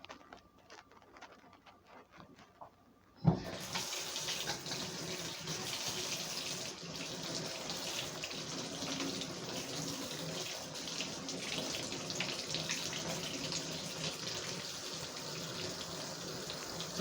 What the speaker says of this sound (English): Wash a utensil quickly.